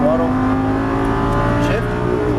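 A Lamborghini Gallardo LP550-2 on a racetrack accelerates hard under throttle, its engine note loud and close with pitch climbing steadily, then dipping briefly as the next gear comes in.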